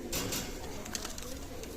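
Soft, low cooing of pigeons at a pigeon loft in Daulatpur, Khulna, Bangladesh, against a faint background hum, with a few quiet rustles; no talking.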